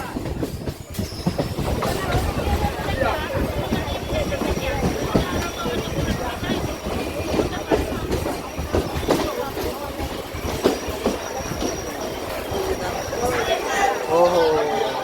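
A moving passenger train on a Haridwar to Kolkata journey rumbles steadily with clattering wheels and a dense rolling roar throughout, heard from inside a carriage, with voices faintly mixed in.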